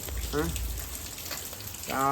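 Heavy rain falls in a steady, soft hiss at moderate distance while a person speaks briefly over it at the start and again at the end.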